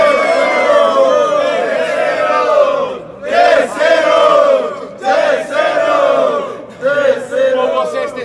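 A crowd at a Brazilian street rap battle cheers and shouts in loud repeated bursts, with short pauses between the surges.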